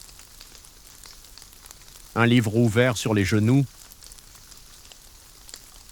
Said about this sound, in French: la pluie battait aux vitres.